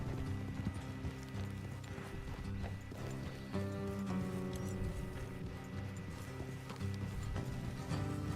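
Horses' hooves clop along in the video game Red Dead Redemption 2, a steady rhythmic gait under a low droning music bed, with a faint whinny and no talking.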